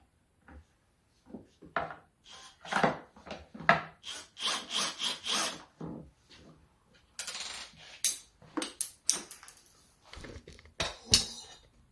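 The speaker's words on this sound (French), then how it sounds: "je visse le support." Close, scraping and grinding strokes interrupted by short pauses while the support for a water treatment unit is screwed into place, irregular and moderately loud, with no talking.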